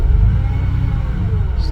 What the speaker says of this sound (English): Starts right up.